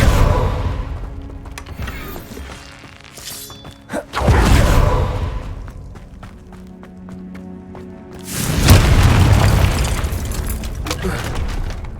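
A Confringo fire spell explodes in the video game Hogwarts Legacy, loud booming blasts around four and eight and a half seconds with rumbling tails, amid game effects and a spoken voice.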